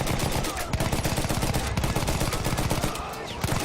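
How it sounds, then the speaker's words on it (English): Heavy machine gun fire from a World War I battle in Battlefield 1, a dense, loud, continuous stream of rapid shots with no break throughout. "Shoot them. Shoot them all."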